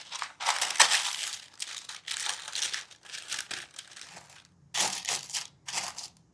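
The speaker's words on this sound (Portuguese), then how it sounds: "E colocamos o papel dentro da forma." Baking paper crinkles and crumples in bursts as it is pressed into a loaf cake tin. The sound is close and fairly loud, with short pauses between handfuls.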